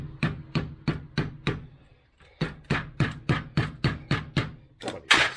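A mallet thuds in a steady rhythm, hammering a part into place on a 1973 Range Rover, about a dozen firm knocks with a short pause partway, then a louder final blow, close up.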